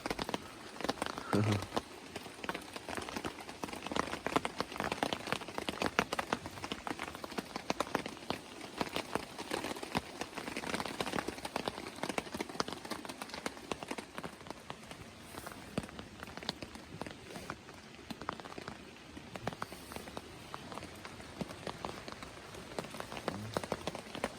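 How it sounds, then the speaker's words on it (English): Rain falls steadily on a hammock tarp at a wild camp, a dense, even patter of drops that holds for the whole stretch and stays soft and close. "I woke up to the rain, and this puddle here is going through the actual tarp"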